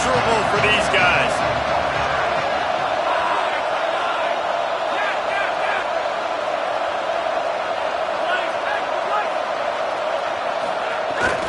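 A packed stadium crowd at a Texas A&M versus Alabama college football game roars in a loud, sustained wall of noise, with a voice faintly audible beneath it.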